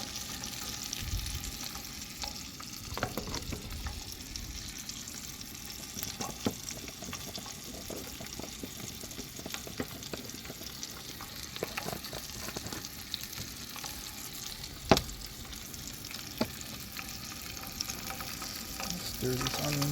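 Onions stir-fried in a pan outdoors on a mountain give a continuous faint sizzle, broken by scattered clicks and scrapes of stirring.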